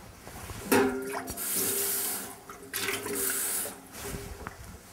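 A little water runs and splashes into a pan in short bursts, close and moderately loud, with pauses between pours.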